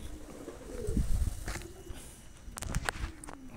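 Pigeons coo softly near a spot where food is being set out for them, a few low murmuring calls mixed with shuffling footsteps and light handling sounds, fairly close and without speech.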